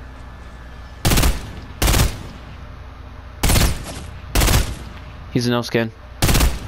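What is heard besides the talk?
thermal scoped assault rifle gunfire in video game Fortnite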